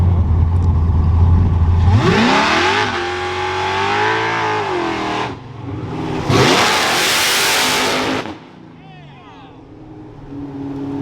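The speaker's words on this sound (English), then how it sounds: "That is a race car." Race car roaring past with rising engine pitch, two loud sweeping acceleration bursts close by, with a brief dip between them and a quieter tail as it recedes; people talk around it.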